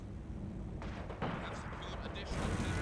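Heavy mortar and artillery fire in Company of Heroes 2 rumbles as deep booming blasts and distant explosions over a constant roar of battle, with a voice talking over the barrage.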